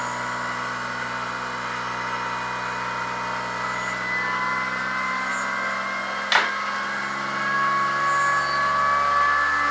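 Arduino-controlled, double-stacked dual-pole mini motor with new rotors spins up, giving a steady whirring hum with sustained tones that rise in pitch and grow slightly louder near the end, with one brief sharp click partway through.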